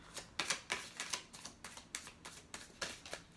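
Tarot cards riffled and shuffled by hand, a quick run of crisp papery flutters and soft snaps in an irregular rhythm, close and fairly quiet with no talking.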